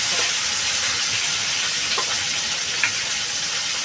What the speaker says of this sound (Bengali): সুন্দর ভালো করে একটু লাল লাল করে ভেজে নেব